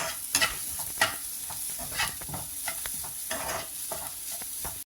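Grated coconut stir-fried with onions in a pan for South Indian kuzhi paniyaram, a soft steady sizzle under scraping spoon strokes, close up and with no talk.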